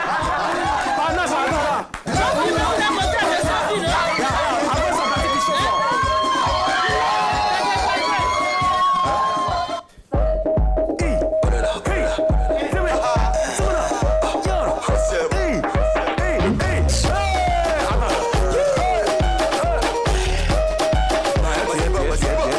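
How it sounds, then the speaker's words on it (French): A French evening TV talk-show studio audience gives a sustained, loud burst of clapping and cheering that fills the room and continues without pause. "Maximum d'ovation pour celle qui nous rejoint maintenant sur le plateau"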